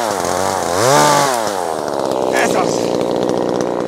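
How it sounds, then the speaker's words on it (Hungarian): A Fuxtec chainsaw held one-handed cuts walnut branches during summer pruning, its engine loud and close, revving up sharply then settling into a steady, rough buzzing drone. "Egykezes fűrész."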